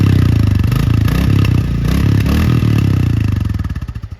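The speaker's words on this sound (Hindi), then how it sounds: "अब हम लोग सुन लेते हैं बाइक का एग्जॉस्ट नोट।" A Royal Enfield Standard 350 motorcycle engine runs loud and close on start, a throbbing exhaust beat with rapid pulses that slows and fades near the end.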